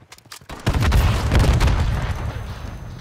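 A grenade launcher explosion in Call of Duty bursts in as a heavy, booming blast with a deep rumble that lingers and slowly fades, following a few quieter crackling shots.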